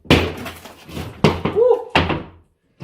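A door handle slammed into drywall, giving several hard, close thunks with a crunching break, while a voice exclaims around the impacts.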